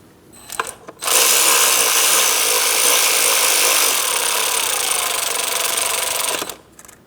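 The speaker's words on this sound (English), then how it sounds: "install the 10mm bolt, and make sure that's tight" A ratchet tightening a 10mm bolt on the intake plenum of a 2003-2007 Cadillac CTS 3.6L V6, a loud, continuous rapid clicking buzz lasting about five seconds, preceded by a few brief taps.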